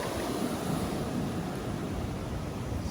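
Ocean waves washing onto a shore in Antique, Philippines, a faint steady surf rumble with some wind, no voices.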